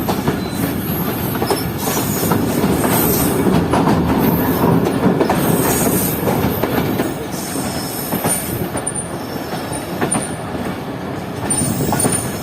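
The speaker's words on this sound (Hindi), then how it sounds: "तो अब ट्रेन कर्व लेते हुए पहुंच रही है Sangla hills junction railway station पर" The privatized Sir Syed Express passenger train rolls around a curve into Sangla Hill Junction station, with loud, continuous rumbling, clattering wheels and squealing flanges up close, and no voices.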